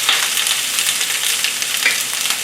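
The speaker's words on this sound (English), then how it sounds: "Listen to the sizzle sound." Steady loud sizzling of green peppers and onion stir-frying in a hot wok, continuous and close, with no voices.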